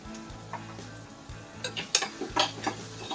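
Onions and turmeric powder frying in oil in a pan, with a spoon scraping and stirring in short irregular strokes and clinks over a low steady sizzle, close and fairly quiet.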